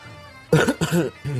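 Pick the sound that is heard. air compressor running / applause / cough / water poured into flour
cough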